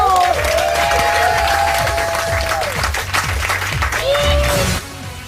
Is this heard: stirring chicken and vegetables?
no